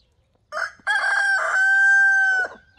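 A rooster crows once, loud and close, after a brief clucking start, then the call trails off into silence.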